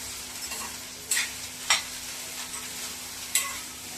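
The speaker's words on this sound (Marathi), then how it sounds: "अगोदर भेंडी छान अशी हलकसं तेल घालून अशी ना भाजून घ्यायची" Soft, steady sizzling of okra roasting in a little oil, with a few brief scraping stirs breaking through at intervals; close and moderately quiet.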